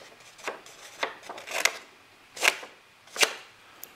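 Small folding scissors snipping through material, about five crisp separate cuts spaced roughly half a second to a second apart, close and clear with no talk.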